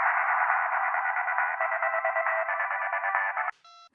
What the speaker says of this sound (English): I like your ringtone better.